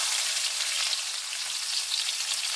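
Panch phoron spices and finely chopped onion fry in hot oil, giving off a steady, bright sizzle close by with no voices.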